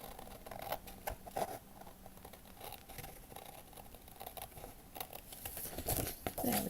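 Small scissors snip through paper while a miniature cat cafe garden room box is being crafted, giving close crinkly cuts and rustling that come in irregular bursts, with no speech.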